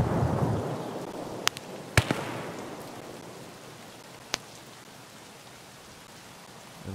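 Distant explosions in the video game Escape From Tarkov, far off toward the power plant: a few sharp, faint cracks over a steady rain-like background hiss, with no talking.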